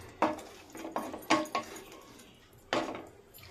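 Hard clacks of a lid and cookware on a pot of okra being set to boil, a few separate close knocks and rattles, with little sign of pouring water.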